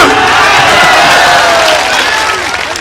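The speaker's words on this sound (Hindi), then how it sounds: "तालियां" Loud crowd reaction at an All India Mushaira poetry gathering, clapping mixed with cheering and excited shouts in a dense roar that eases slightly toward the end.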